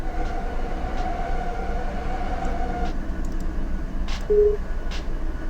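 Locomotives in the Run8 train simulator rumble at a steady low drone, with a long tone holding through the first half and a few brief clanks and a short higher horn-like tone near the end, with no talk.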